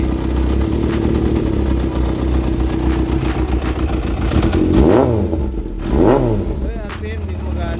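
A Yamaha XJR400 motorcycle engine idles steadily up close, then is revved in two loud surges that rise and fall back to idle.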